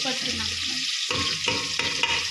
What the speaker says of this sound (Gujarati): ચમચો લઈને થોડું હલાવી દઈએ